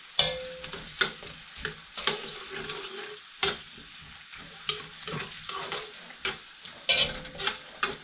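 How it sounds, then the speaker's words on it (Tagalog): Star margarine stirred and melting in a pan: a spoon scrapes in a quick repeated rhythm over a soft, steady sizzle, close up with no talking. "Haluin lang natin mga kabayan para matunaw yung ating star margarine."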